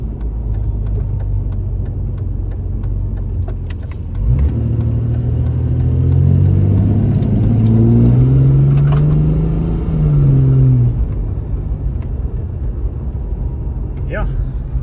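A Jeep XJ engine drones under steady road noise while the vehicle drives, rising in pitch as it accelerates and then dropping back as it shifts, close and fairly loud, with a person talking early on.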